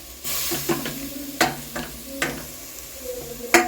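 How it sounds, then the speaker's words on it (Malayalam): Spoon scraping and stirring country chicken curry with tomatoes in a pan, with scattered sharp clinks over a soft steady sizzle. "നല്ലപോലെ മിക്സ് ചെയ്ത് കൊടുക്കുക"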